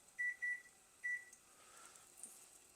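Three short, clear electronic keypad beeps as a microwave oven timer is set in a home kitchen, two quick tones close together then a third after a pause, over a faint background hum.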